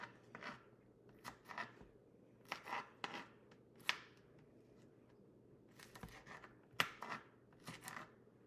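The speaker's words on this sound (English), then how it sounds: "If you don't want them that big, just cut them up, little pieces." Jalapenos being cut into little pieces for guacamole: a knife taps and slices against a cutting board in quick irregular bursts, close but soft in a quiet kitchen.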